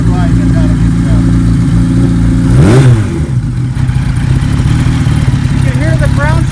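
A 1976 Kawasaki KZ900 Turbo motorcycle engine rumbles loudly at a deep idle, close by, with one sharp rev rising and falling midway and a voice talking over it.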